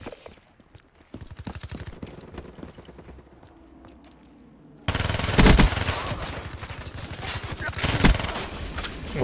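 Rapid gunfire in Call of Duty: Black Ops 3 multiplayer, quieter bursts first, then a sudden loud stretch of sustained shooting with sharp cracks.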